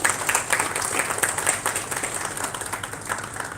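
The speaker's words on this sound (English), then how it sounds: "Please give them a huge round of applause." At a success meet, an audience gives steady, sustained applause, with many hands clapping together continuously and fairly loudly throughout.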